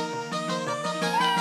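A single drawn-out cat meow from the game Suikoden, with a rising, wavering pitch, clear and close, sounding synthetic like a game effect.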